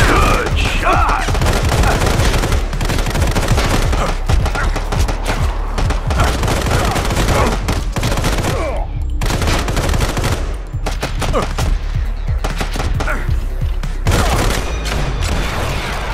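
Assault rifle gunfire in the shooter game Sniper Fury: rapid dense bursts of shots, loud and continuous, with game effects and sparse voice underneath.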